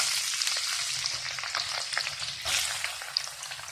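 Mutton keema fries in a pan with a dense, hissing sizzle, steady and close, with faint scraping stirs now and then and no voices.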